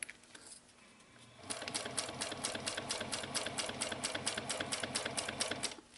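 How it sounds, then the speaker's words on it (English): A sewing machine stitches a 1/4 inch seam on a wristlet clutch, starting with a short back stitch, then running steadily in a rapid, even, close-up mechanical chatter after a quiet start. "Back stitching at the beginning."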